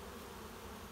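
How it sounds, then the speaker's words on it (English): Honeybees leaving holes in a car door during a forced abscond, a dense steady buzzing hum filling the whole moment, close and continuous with no voices. "Bees are still coming out of these holes, steadily, not going back in"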